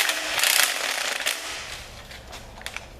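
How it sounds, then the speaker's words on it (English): A socket wrench on a short socket ratchets and breaks a stubborn stud loose during a 302 engine teardown, giving a close burst of clicking with a few sharp metallic snaps toward the end. "Got it broke free that time with a short socket."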